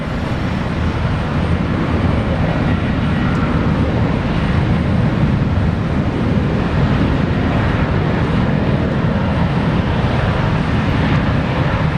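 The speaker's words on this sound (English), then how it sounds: "Virgin Australia rolling now." Virgin Australia airliner rolling for takeoff at Brisbane Airport, a loud, steady jet engine roar that holds strong and broadband for the whole stretch, with no voices over it.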